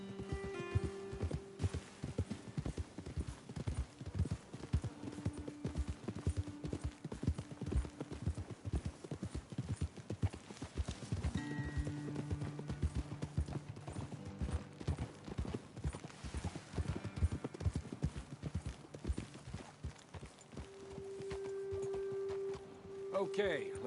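Horse hooves clip-clop and thud on dirt in Red Dead Redemption 2, a steady rhythmic run with an occasional whinny, heard under ongoing conversation between riders.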